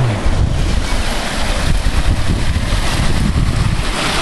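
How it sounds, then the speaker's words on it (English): Water from a backyard waterfall pours steadily into a clear, sand-bottomed pool on a rural property in Eden, Ontario, a continuous close rushing wash with no voices. "Waterfalls in your backyard."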